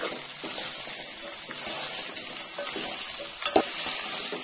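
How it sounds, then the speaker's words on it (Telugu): Bottle gourd pieces are stirred through hot oil in a pan, giving a steady close hiss of frying with faint scrapes and one brighter knock of the spoon against the vessel, no voices over it. "ఇప్పుడు ఈ సొరకాయ ముక్కలన్నీ ఆయిల్లో కలిసేటట్టు కలుపుకోవాలి"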